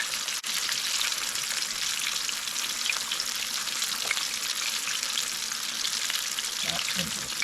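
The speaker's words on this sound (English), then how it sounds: "Just let them cook." Buttermilk-and-flour-coated chicken frying in hot oil, a dense, steady crackling sizzle that carries on throughout without pause, close and fairly loud, with no voices.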